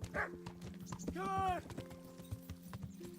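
Steady clip-clop of horse hooves while riding in Kingdom Come: Deliverance, a regular trotting rhythm under someone talking, with a brief whinny-like tonal sound in the middle.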